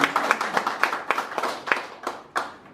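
A small audience at a guest-speaker event claps as a chairman is invited forward, a sparse, uneven patter of a few nearby hands with distinct individual claps that taper off toward the end.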